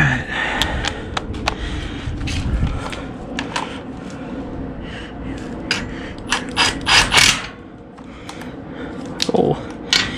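A socket wrench ratchets on bolts of pontoon boat trailer bunks, giving bursts of rapid clicking with metallic clanks and a thud, while a voice is briefly heard.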